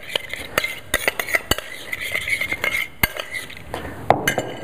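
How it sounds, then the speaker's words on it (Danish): A utensil stirs salad dressing in a bowl with a quick run of light clinks and scrapes, sharper taps now and then against the dish, close up with no talk. "Så rører vi egentlig dressingen rundt."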